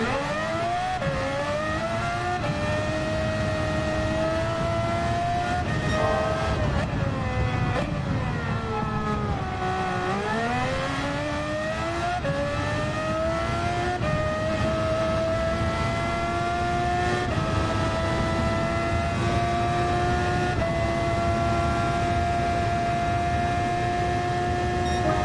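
A race car engine in Gran Turismo 7 revs hard and steadily, its pitch climbing through gears, dropping sharply under braking around the middle, then building again, loud and close with no talk over it.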